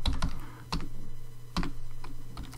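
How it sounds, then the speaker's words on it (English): A password being typed on a computer keyboard during a website login, with a close, irregular patter of key clicks and brief pauses between bursts. "and then I will type the password"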